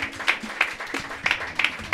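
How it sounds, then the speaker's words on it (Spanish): A church congregation claps during a Sunday service, with sparse, fairly quiet claps scattered irregularly over a couple of seconds, a few sharper hits standing out against a soft room background. "Dale un aplauso al Señor."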